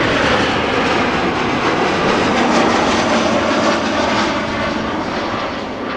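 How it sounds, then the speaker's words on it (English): A steady, loud roar from an Embraer jet arriving from Warsaw at Amsterdam Schiphol Airport, broadband engine noise holding level throughout with no speech over it. "Although it is yet another Embraer. This one not from KLM. Arriving from Warsaw."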